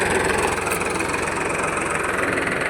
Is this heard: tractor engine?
yes